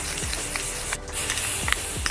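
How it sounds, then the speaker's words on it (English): Black gloss spray paint is applied to aluminum PC case panels, giving a near, continuous aerosol hiss with one brief pause partway through. "Now it's ready for some black gloss"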